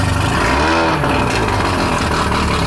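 An engine revs hard on the throttle with the transmission out of gear, a loud, close, steady roar that swells and eases slightly with no pauses.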